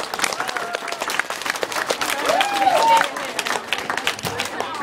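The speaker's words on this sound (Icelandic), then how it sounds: "Og við skulum gefa þeim gott klapp." An audience at a school talent contest gives steady applause, dense clapping all the way through with a brief whistle and some voices in the middle.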